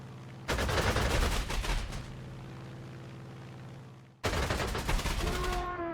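Gunfire in the video game Panzer Corps 2 as a fighter is shot down, two bursts of rapid automatic fire separated by a lingering engine drone, the second ending in descending whistling tones.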